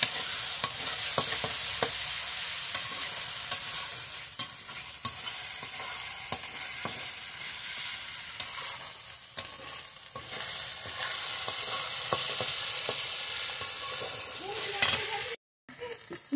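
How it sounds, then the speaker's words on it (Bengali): Ginger paste stirred into frying onion and garlic in a pan over a wood fire for mutton curry, a loud continuous sizzle with frequent clicks and scrapes of the spatula, briefly cut off near the end. "আদা বাটাটাও পেঁয়াজ রসুনের সাথে একটু নাড়িয়ে নিচ্ছে"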